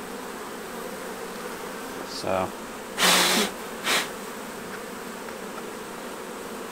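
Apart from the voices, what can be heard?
honey bees buzzing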